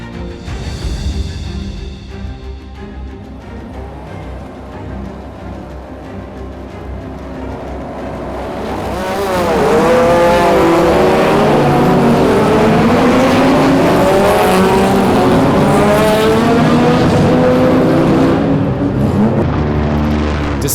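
Historic race cars launching from the grid at the Goodwood Revival, a murmur of idling engines swelling into a loud roar of many cars accelerating and revving together, with rising and falling engine notes and some tire squeal.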